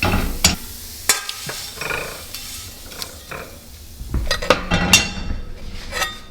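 Mushrooms go into a hot seasoned pan, with a soft sizzle of frying under scattered clinks and scrapes from a utensil stirring against the pan.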